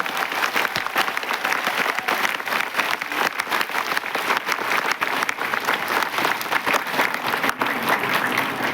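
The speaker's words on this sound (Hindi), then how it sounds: "सब लोग एक दूसरे के लिए एक बार जोरदार तालियां बजा देंगे। बहुत जोरदार तालियां।" A large seated audience at a company event bursts into loud, sustained applause that stays dense and steady the whole time, with a faint crowd murmur underneath.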